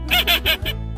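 A duck quacks several times in quick succession, loud and close, in a short nasal series that fades out at the end.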